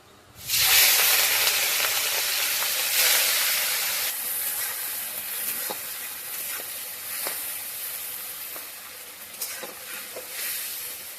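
Shrimp sizzle loudly as they drop into hot oil in a wok, a sudden bright hiss that rises fast and then settles into a steady, slowly fading crackle with small pops.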